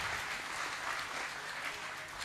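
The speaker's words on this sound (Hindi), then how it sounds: "प्लीज़ एक बार ज़ोर से तालियां हो जाए उनके लिए।" Steady applause from an audience follows a children's kathak dance performance at a cultural stage in Bhiwani, a dense, even wash of clapping that holds without pause throughout.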